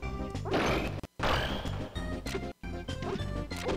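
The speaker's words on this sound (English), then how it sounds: "Even more up smashes." Repeated heavy smash and whack hits from up smash attacks in Super Smash Bros 64, with Mario fighting Pikachu in a tournament match, dense and loud with brief gaps between bursts.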